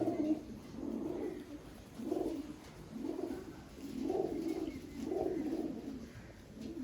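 A Malbai pigeon chick, probably a female, coos in a loft in a soft, low repeated rhythm, roughly five rolling phrases close by with no talking.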